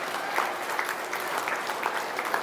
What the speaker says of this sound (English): Let's give all these exhibitors a big round of applause.